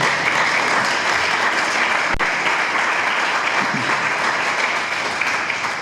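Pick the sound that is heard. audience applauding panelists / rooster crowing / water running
audience applauding panelists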